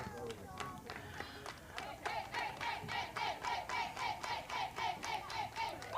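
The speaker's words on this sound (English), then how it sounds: "You can hear the girls cheer." Young softball players in a high school game between Eastmont and Wenatchee cheer and clap after a three-run home run, an excited rhythmic burst of shouts and claps from the team that stays steady and lively throughout.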